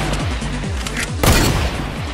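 Rapid bursts of gunfire in Fortnite Battle Royale, a dense loud rattle of repeated shots with a sharper, heavier blast midway, no talk over it.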